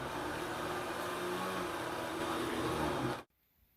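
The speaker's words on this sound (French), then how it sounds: "Versez-le dans le mélange et mettez votre robot en marche." A food processor blends vegetables, garlic and water into a purée, giving a steady, loud whirring drone for about three seconds before cutting off abruptly into near silence.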